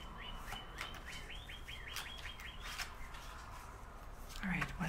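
Birds chirp outdoors in a late-afternoon setting, a quick run of repeated tweets standing out above steady wind and distant traffic noise, with a lower call near the end.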